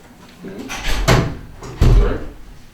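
A door in a village council meeting room swings and shuts with two solid thuds, the second a loud close slam, amid faint room murmur.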